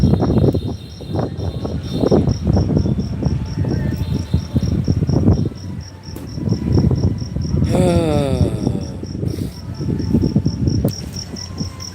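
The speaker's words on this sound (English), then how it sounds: "I can hear a damn cricket." A cricket chirps steadily in a rapid, evenly pulsed high trill throughout, faint but constant under a person talking at close range and other background chatter, in Da Nang, Vietnam.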